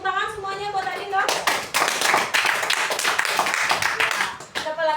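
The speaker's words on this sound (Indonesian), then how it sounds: "Tepuk tangan semuanya buat Adin dong" Students in a math classroom clap for a classmate, a burst of many hands patting unevenly for several seconds, with a teacher's voice heard before and after the applause.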